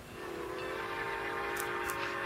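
The whistle of the arriving Northern Star train sounds as a steady, sustained tone at moderate distance, rather soft, with no voices over it.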